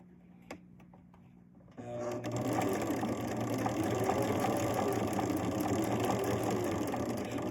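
A sewing machine starts up after a quiet moment of small clicks and then stitches quilt block pieces in a steady, fast mechanical whir. The sound is close and even, with no talking over it.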